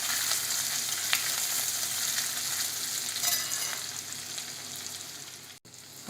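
A steady sizzle as turmeric and chili powder are stirred in a pan for instant dosa, with a few light scraping clicks over the frying.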